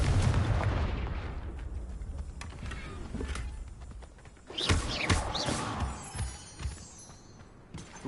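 Explosive booms from a Confringo fire spell in the Hogwarts Legacy video game hit in heavy thuds amid game effects, with a loud burst in the middle and scattered impacts after.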